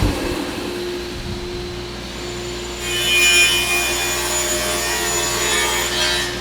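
A saw ripping wood boards for loose kicks produces a steady machine hum, then grows louder and brighter as the blade bites into the board and cuts on continuously.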